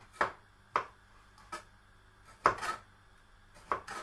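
Knife slicing chillies thinly on a board for chicken curry, a handful of sharp, separate cuts spaced irregularly, close and fairly quiet with no talk.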